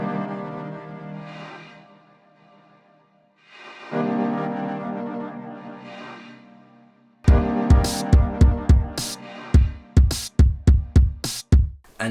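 A sampled loop used in a hip-hop beat: sustained melodic chords with gaps, then punchy drums enter with a steady rhythmic pattern, loud and up front with no talking.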